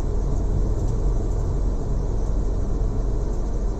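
A car's engine rumbles steadily from inside the cabin as the clutch is released in second gear and the accelerator pressed in heavy stop-and-go traffic; a loud, even drone with road noise and no voices.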